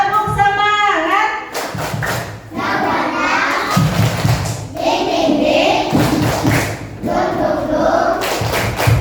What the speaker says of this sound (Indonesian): Kita tepuk semangat dulu yuk. Tepuk semangat.